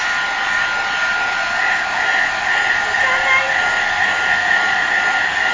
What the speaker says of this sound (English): hair drying session